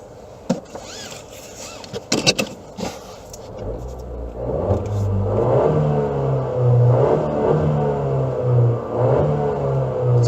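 A 2017 Honda Civic Turbo is timed from 0 to 60, starting with a few knocks and clicks in the cabin, then the engine revs up into a loud, rising drone that climbs through several gear changes.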